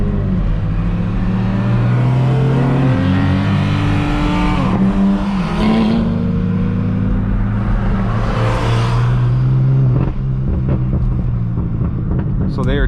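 Straight-piped BMW M4 F82 pulls hard with a loud, raspy exhaust drone rising and shifting through gears, steady and close throughout, with tire and road noise beneath.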